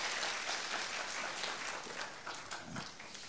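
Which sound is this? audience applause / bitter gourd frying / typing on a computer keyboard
audience applause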